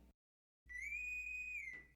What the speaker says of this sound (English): Train whistle.